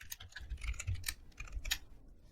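A computer keyboard typed at a quiet desk in short, light clicking bursts, Shift and Enter among the keys pressed, with no voice over it.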